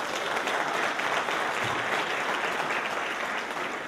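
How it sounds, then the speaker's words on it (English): Sustained applause from a dressed-up crowd at a formal gala honouring young people, a thick, even wash of many hands clapping that fills the room at steady loudness throughout, with no voices over it. "they deserve another round of applause."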